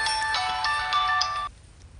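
A mobile phone ringtone plays for an incoming call in a Telugu film scene: a bright, repeating electronic melody that stops abruptly about three quarters of the way through, leaving faint room noise.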